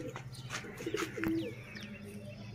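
A pigeon in Sialkot, Pakistan, coos softly nearby, a short low burbling call, with faint chirps and background noise around it.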